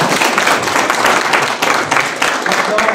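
An audience at a book fair in Le Tréport applauds the author Nadine Chauvin, with continuous, fairly loud, close group clapping throughout.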